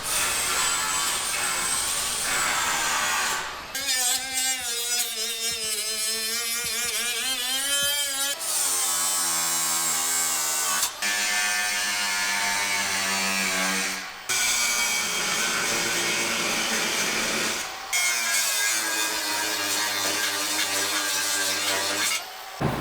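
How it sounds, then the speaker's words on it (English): A power grinder works the pedestals off a race car body, a loud continuous whine with shifting pitch that cuts out briefly several times before resuming, close by and alone. "has been grinding the little pedestals off for most of the morning here"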